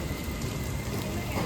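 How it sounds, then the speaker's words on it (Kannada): Steady rain pours down outdoors in cold, windy weather, making a dense, continuous hiss of falling drops. The sound is close and fairly loud, with no voices. "ಮಳೆ ಬರ್ತೈತೆ"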